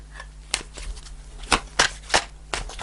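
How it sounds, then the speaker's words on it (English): Tarot cards being shuffled, several sharp riffling slaps and soft card rustles in an uneven rhythm, close and moderately loud with no talking. "Okay, let's shuffle again."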